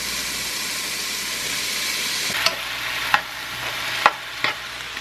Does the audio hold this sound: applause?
no